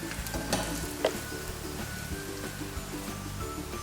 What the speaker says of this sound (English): Fry till it's golden brown and then flip it out.